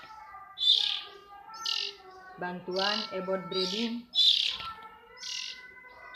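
Several bright chirps and short whistled calls from captive-bred kacer (magpie robin) birds in Priangan, Indonesia, sounding close and fairly loud in bursts, with someone speaking in between and partly under the calls.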